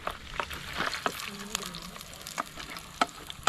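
Chopped ginger and garlic fry in hot coconut oil for Kerala chicken varattiyathu, a soft continuous sizzle broken by sharp clicks and scrapes of a spoon stirring the pan, close and moderately quiet.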